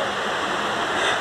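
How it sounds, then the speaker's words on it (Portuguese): Steady, dense rushing of a waterfall at the first falls near the exit of São Bartolomeu park, a broad continuous roar with no voices. "E voltamos para a primeira cachoeira, que é na saída logo do parque"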